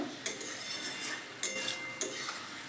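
Bottle gourd and pre-fried prawns are stirred together in a pot, with four or five sharp, separate metal clinks of a spoon against the pot rim over a quiet background and no talking.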